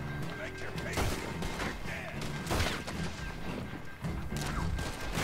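Gunfire from several guns in the Red Dead Redemption 2 game, with loud bursts and repeated shots in a busy fight, mixed with clatter and a voice underneath.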